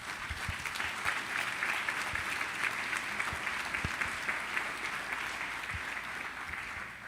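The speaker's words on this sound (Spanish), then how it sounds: "Denle un aplauso a nuestro Rey" Congregation clapping during a Sunday church service, a steady, even applause running the whole time at moderate distance, with a few low thumps and little talk.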